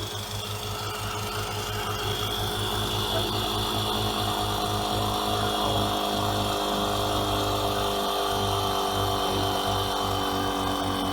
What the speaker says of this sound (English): So I'm using the generator right now